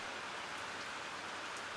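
Rain falls steadily, an even, faint hiss of drops with no break and no voices.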